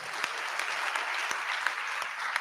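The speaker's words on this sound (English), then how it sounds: "Another applause for Prof." Applause at a December 2024 induction ceremony for newly qualified medical and dental practitioners, steady clapping from a crowd with a few sharper claps standing out, heard on its own.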